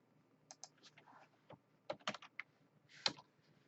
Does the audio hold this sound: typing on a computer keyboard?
yes